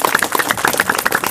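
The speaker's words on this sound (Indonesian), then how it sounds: "Tepuk tangan untuk beliau." Audience applause for a speaker at an Indonesian talk, a dense, steady crackle of many hands clapping together throughout, fairly loud and with no voices over it.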